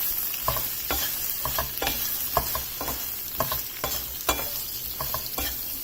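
Pointed gourd pieces are stirred with turmeric and salt in a frying pan, giving repeated close spatula scrapes and clicks in an uneven rhythm over a light sizzle, with no voices.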